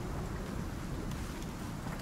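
Steady rain falls in the survival game Icarus, a soft continuous hiss of drops with a low rumble underneath, fairly quiet and even throughout.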